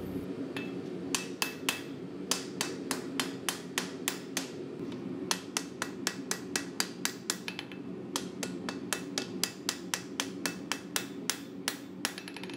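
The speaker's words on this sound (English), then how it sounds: "To set these welds, I first start off by hitting in the center, and then I go to each of the corners of the bolsters." Steady hammer blows ring out sharply on hot steel, forge welding bolsters onto a Damascus chef's knife blade, with dozens of rapid, evenly spaced metallic strikes close up throughout.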